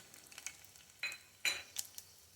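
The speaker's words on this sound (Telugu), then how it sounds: "ఇది కాగిన తర్వాత తాలింపు గింజలు, ఆవాలు, జీలకర్ర, కొన్ని మెంతులు, మినప్పప్పు, ఎండుమిర్చి వేయాలి" Mustard seeds, cumin, fenugreek, urad dal and dried red chillies hitting hot oil in a pot for tempering, giving a few sharp crackling bursts and spits over a quiet background.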